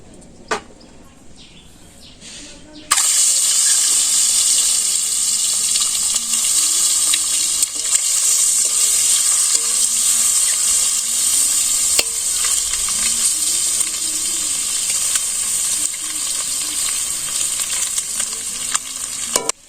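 Village home cooking in a pan, with meat cooked earlier and a dish of ash gourd and egg to follow: after a quiet start with a short knock, a loud continuous sizzle with stirring scrapes runs steadily to the end.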